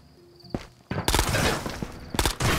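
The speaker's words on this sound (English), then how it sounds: "Oh, they're shooting at somebody up front." Gunfire in the shooter game Ghost of Tabor during a night raid: a couple of sharp isolated shots, then a dense close burst of rapid fire followed by another short volley, with no talk over it.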